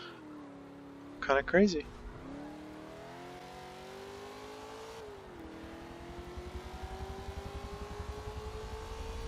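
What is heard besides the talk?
rear-wheel drive car racing, Forza Motorsport 7 video game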